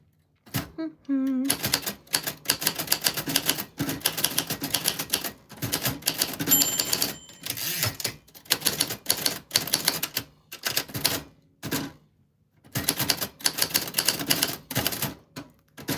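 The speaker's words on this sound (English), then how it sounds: "Typewriter ASMR." A typewriter clacks in rapid bursts of keystrokes, loud and close, with brief pauses and a carriage-return ding partway through, alone with no voices.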